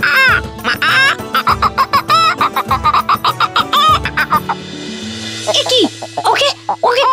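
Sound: chicken clucking

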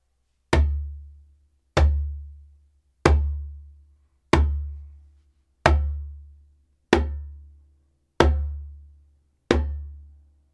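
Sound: djembe bass tone struck with whole hand

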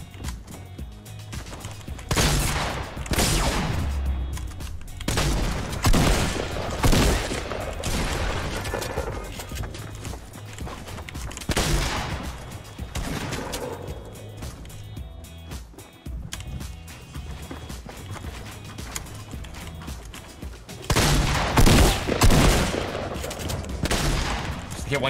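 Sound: gunfire in Fortnite video game

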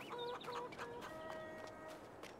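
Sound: chickens clucking on a farm map, video game

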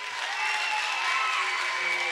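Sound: applause

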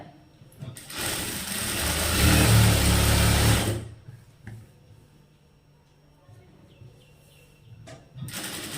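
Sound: sewing machine stitching fabric

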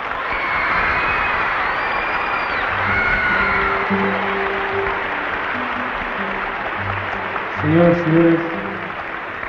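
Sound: audience applauding and cheering for a singer

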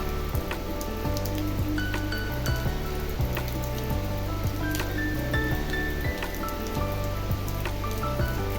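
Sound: rain falling

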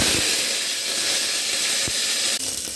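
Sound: mustard seeds, dried chili and curry leaves sizzling in hot oil

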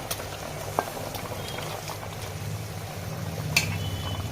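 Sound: stirring hilsa and eggplant curry cooking in a pan

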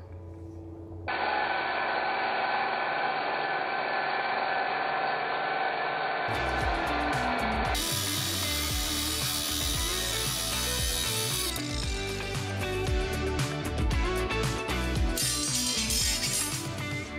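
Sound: rebar being cut for the stem wall

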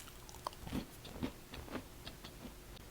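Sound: biting a crunchy matcha chocolate chip cookie

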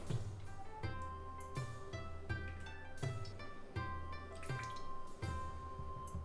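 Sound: pouring soy sauce, sesame oil and mirin into marinade

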